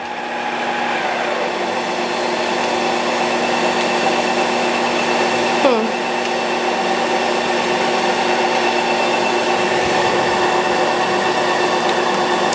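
A Ninja Creami ice cream maker on its mix-in cycle gives a steady, loud motor whine with a constant grinding hum, broken by one brief clunk midway.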